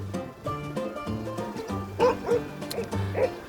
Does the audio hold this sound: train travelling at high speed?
no